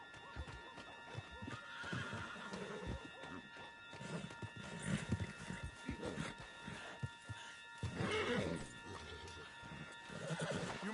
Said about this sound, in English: Get him on the horse and let's go.